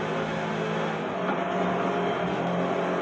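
Race car engine in Forza Horizon 5 while passing a McLaren Senna, a continuous loud high-revving roar held steady for a few seconds with no talk over it.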